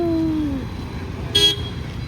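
A newly bought car arrives and gives a short, sharp honk, a loud toot partway through over a low engine rumble, with a brief rising tone at the start.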